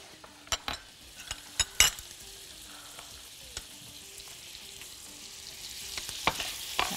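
Cauliflower frying in a pan gives a soft, steady sizzle, broken by several sharp metallic clinks and scrapes of a utensil stirring against the pan in the first seconds and again near the end.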